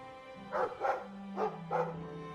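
A dog in the video game Dragon Age 2 barks four times in a steady rhythm, close and fairly loud, over a low, continuous background drone.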